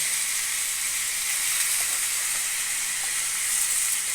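Steady bright sizzle of chicken frying in hot oil, a continuous hiss without voices.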